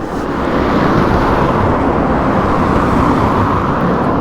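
Cars pass along Marsh Road in Drogheda, Ireland, producing a constant broadband road roar of tyres and engines, fairly loud and steady with no voices over it.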